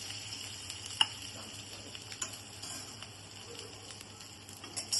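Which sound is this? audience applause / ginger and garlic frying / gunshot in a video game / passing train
ginger and garlic frying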